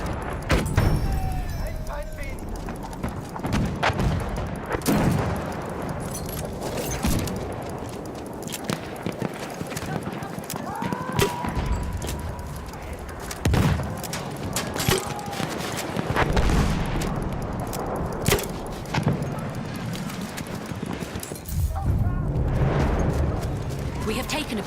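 Machine gun fire in the video game Battlefield 1 rattles out in repeated bursts with sharp booming shots and explosions, while someone talks over the battle noise throughout.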